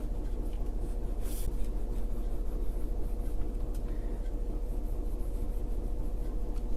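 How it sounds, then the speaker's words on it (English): A bone folder rubbed back and forth over glued paper, making soft, steady close scraping and rubbing strokes with a low background hum and no speech. "You can use your bone folder on it if you like to help smear out the glue."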